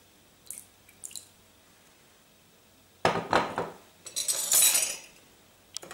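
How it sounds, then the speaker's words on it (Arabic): A small amount of water is poured into a spice and oil mixture to make a marinade for fish: faint clinks early on, then a close splashy pour with utensil clatter in two short bursts, with no talking. "نصب شويه ماء باش نحل اكل اللفاح"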